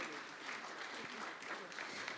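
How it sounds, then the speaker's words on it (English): Brief, fairly quiet audience applause welcoming a tax official at an executive summit on Nigeria's tax reform, a steady wash of clapping with faint voices underneath. "A warm round of applause and welcome"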